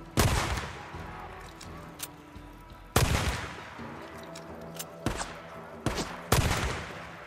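Gunfire in the video game Days Gone, a string of sharp, loud shots at irregular intervals, some in quick clusters, each ringing briefly with echo, without talk over it.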